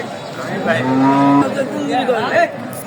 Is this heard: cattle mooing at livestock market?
yes